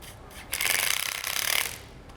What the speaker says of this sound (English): I'll take my impact gun and I'll start setting them down